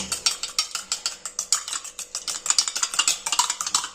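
An egg whisked briskly in a bowl, a quick steady run of sharp clinking taps about six per second, close and clear with no talking.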